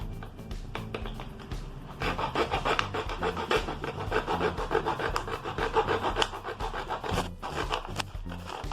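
A plastic bottle has its top cut off, giving close scraping, rasping strokes in an irregular rhythm with no talking.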